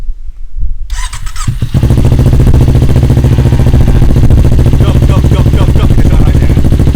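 A two-cylinder motorcycle with an Akrapovic racing exhaust clatters to life and settles into a loud, rough, throbbing idle with a deep, uneven exhaust pulse, very close.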